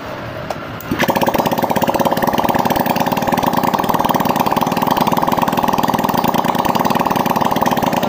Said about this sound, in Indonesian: Oke, sekarang saya coba hidupkan dulu ya.